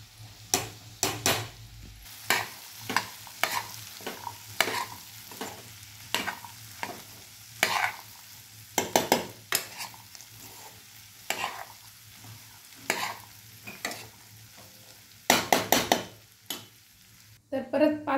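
Coriander is stirred into vegetables cooking in a pan, with repeated sharp scraping strokes over a soft, continuous sizzle.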